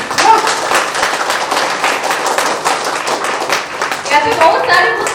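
Audience claps steadily at a programme in a hotel in Bodh Gaya, a continuous wash of hand claps that swells briefly toward the end.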